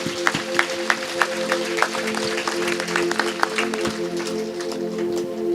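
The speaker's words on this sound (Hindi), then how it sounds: "ताली बजाते हुए प्रभु को धन्यवाद करिए" A congregation claps together to thank God at a church gathering, a steady run of near hand claps with a few sharper accents over a sustained tonal hum.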